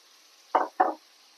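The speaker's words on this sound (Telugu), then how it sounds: "ఇప్పుడు మనం క్యాబేజ్ వేసుకుందాం" Cabbage added to a cooking pot, making two quick, close thuds a quarter-second apart as handfuls land, over a faint steady background hiss, with no talking.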